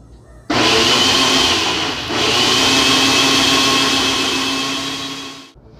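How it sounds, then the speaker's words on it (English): A Ninja blender blends salsa, starting abruptly into a loud, steady high-pitched whirring motor roar, dipping briefly once before resuming, then winding down and stopping near the end. "We're gonna close up our ninja because we don't have a blender. And we are just gonna blend this up."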